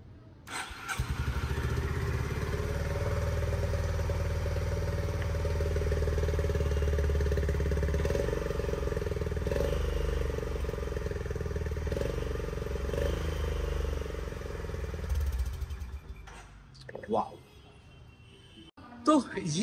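A Honda CB350 motorcycle engine runs with a steady, deep exhaust thump close by for about fifteen seconds, then cuts off into handling clatter and a brief voice.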